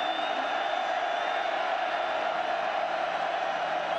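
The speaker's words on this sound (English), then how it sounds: "So third down and now the crowd again becomes a factor." Steady roar of a big college football stadium crowd building on third down at Oregon against USC, a continuous loud wash of noise with no break.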